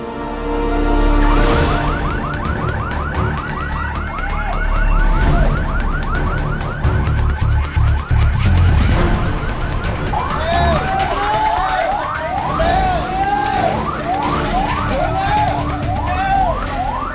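A loud warbling alarm siren at a military base wails continuously, its pitch sweeping up and down in repeated cycles over a low rumble.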